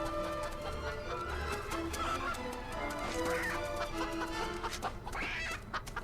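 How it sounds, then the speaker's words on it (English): Chickens clucking in the video game Fable 3, a busy flock of repeated clucks and squawks over a steady background bed, moderately close, with a few louder agitated calls near the end. "Go, go, go, chicken, go!"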